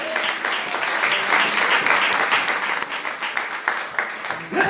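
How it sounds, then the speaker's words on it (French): A church congregation claps and cheers at an evangelist's sermon, a dense, loud, sustained applause lasting several seconds and rising again at the end. "Est-ce que quelqu'un peut acclamer pour cette parole?"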